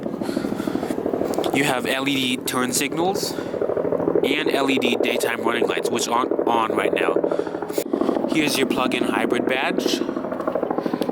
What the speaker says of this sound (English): Excuse the helicopter in the background.